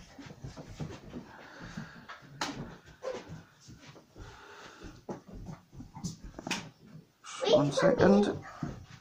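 A puppy whimpers and pants in a home, with soft whines and breathy sounds between people talking nearby and a louder burst of movement and noise toward the end.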